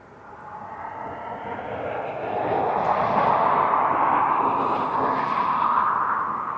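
A British Airways aircraft at Aberdeen Airport gives a broad, steady engine roar that builds over the first few seconds and then holds loud and sustained, with no voices.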